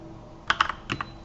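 Keys tapped on a computer keyboard while entering a spreadsheet formula, a short burst of about six crisp clicks in two quick clusters, close and clear with no talk.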